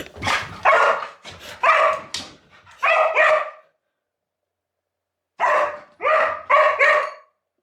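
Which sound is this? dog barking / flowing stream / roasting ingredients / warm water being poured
dog barking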